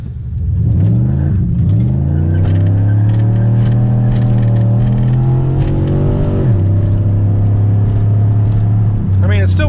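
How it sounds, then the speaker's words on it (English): A MazdaSpeed6 with traction control off accelerates hard with its tires spinning, a loud close engine drone climbing through the revs, dropping at a shift and pulling again, with wheel hop and tire noise but no talking. "Traction control off, so we're just gonna spin."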